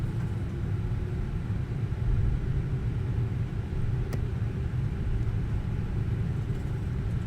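An airliner in a flight simulator game rolls along the runway after landing, a steady low rumble with engine drone that stays constant and moderately loud, with one faint click partway through.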